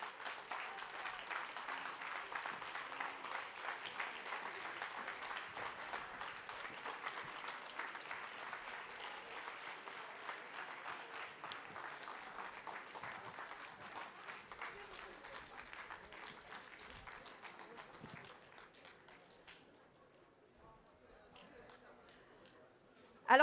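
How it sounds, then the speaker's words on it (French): Sustained applause from a crowd at a left-wing political meeting in Montreuil, steady and moderately distant for about twenty seconds before thinning out, with a sharp knock at the very end. "je vous demande d'accueillir avec moi, sous les applaudissements, tous nos intervenants"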